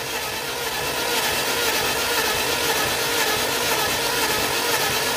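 A Toyota Innova engine cranks on its starter, a loud, steady broadband whirring grind that runs unbroken through the whole stretch with no voices over it.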